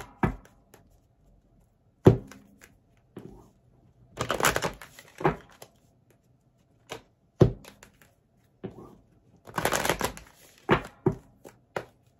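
Oracle cards are handled and shuffled close by in short bursts: sharp taps and clacks, then two longer riffling shuffles separated by quiet pauses, with no talk.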